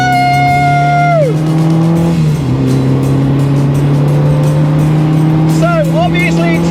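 A car drives flat out around the Castle Combe race circuit, its engine droning loudly and steadily from inside the cabin, with pitch shifts as gears change and brief tyre squeal, while a voice talks over it.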